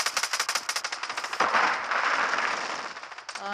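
Rapid automatic gunfire in the Call of Duty Modern Warfare 3 video game, a fast loud burst of shots, then a heavy blast-like rush of noise and a few more scattered shots.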